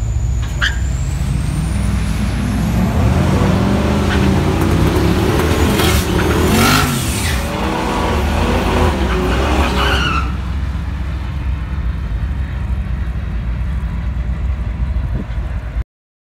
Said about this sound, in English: Now that was my first pass racing the truck this season.